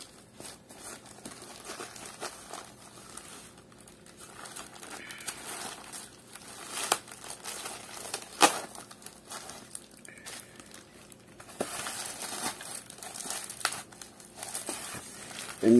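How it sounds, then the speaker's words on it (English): Tape peels away and packaging crinkles and rustles as a hot air gun is unwrapped, with irregular crackling, tearing and handling noises close by, and no talk. "Just gotta get that tape off."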